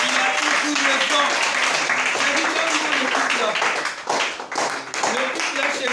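A congregation at a wedding ceremony sermon clapping together, dense continuous applause close and loud for several seconds, with a voice speaking over it and the clapping briefly thinning near the end.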